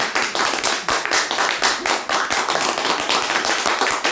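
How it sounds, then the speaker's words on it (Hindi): Steady applause from a crowd, dense rapid clapping that holds at an even level throughout with no talking. "और आप सभी लोग भी तालियां बजा सकते हैं, सर का सम्मान कर सकते हैं।"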